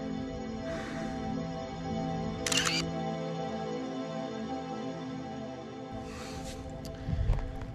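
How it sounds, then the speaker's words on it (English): A Nikon F4 film camera fires its shutter, a sharp short mechanical snap midway through, with faint handling rustles and a soft thump near the end over quiet outdoor background. "It's gonna use a super fast shutter because I'm looking right into the sun."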